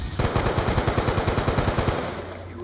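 Rapid automatic gunfire from the video game Black Ops 2 multiplayer comes as a loud, steady stream of evenly spaced shots lasting about two seconds, then cuts off.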